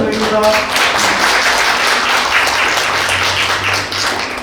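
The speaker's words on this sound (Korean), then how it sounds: "박수 한번 보내주시죠" Audience applause at a residents' meeting on a neighbourhood street-housing redevelopment project in Simgok-bon-dong, a steady wash of clapping from a seated crowd, fairly loud and continuous, with a voice over a PA system partly audible beneath it.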